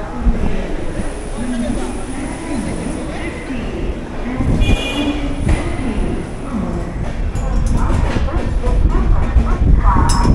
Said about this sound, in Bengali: ট্রেন রানিং হয়ে গেছে, হাওড়া স্টেশনও ছেড়ে দিয়েছি